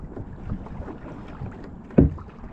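A kayak is paddled through water in a no-wake zone, giving soft, uneven splashes and a low rumble of wind on the microphone, with one louder knock or splash near the end.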